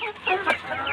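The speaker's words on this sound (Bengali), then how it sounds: "ভাই এই মুরগিগুলোর নাম কি? দেশি। এগুলো দেশি, উপরেগুলো দেশি" Desi chickens on a small hobby farm give close, short clucks, several overlapping in a one-second burst.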